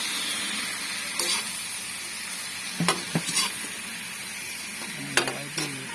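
Sardines are stirred in a sizzling pan, with a steady frying hiss broken by several sharp utensil scrapes and clacks at irregular intervals, close and clear with no talking.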